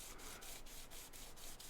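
Sanding a silver pendant by hand with abrasive, a steady scratchy rubbing in quick regular back-and-forth strokes, close and quiet with no voices.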